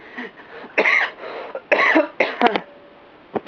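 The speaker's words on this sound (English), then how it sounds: "Knocked the camera over coughing." Several harsh coughs in quick bursts, close and loud, with a short throat-clearing sound near the end and quiet gaps between.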